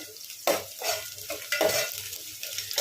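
Cut green chili pieces drop into a hot frying pan of oil, sizzling loudly up close while a spoon scrapes and stirs in repeated bursts.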